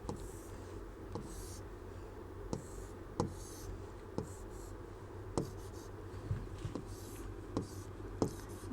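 A pen scratches across paper while drawing a diagram during a class 10 science lesson, quiet irregular strokes and taps spaced through the stretch over faint room hiss, close up and with no talk.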